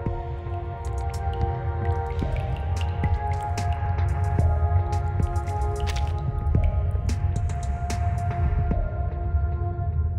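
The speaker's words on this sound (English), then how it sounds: "Water keeps dripping down from the side of the ceiling near the window." Water drips from the side of a ceiling near a window in the video game Reverse 1999, with repeated soft drips and squishy splashes over a steady low ambient hum and no voices.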